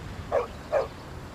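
A dog gives two short, clear barks about half a second apart, moderately close, in an otherwise quiet outdoor setting in a village lane.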